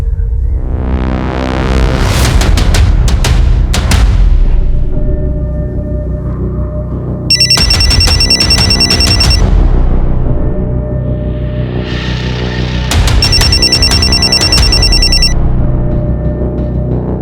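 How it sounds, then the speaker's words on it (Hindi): An old-style telephone bell rings loudly in two long bursts separated by a brief pause, with no voices. "स्वप्निल, मैं तुम्हारे फोन का ही वेट कर रही थी।"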